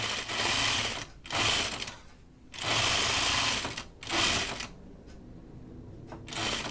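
A sewing machine stitches fabric for a caftan in several loud, close bursts of rapid mechanical whirring, separated by short pauses as the fabric is turned at corners, with no talking.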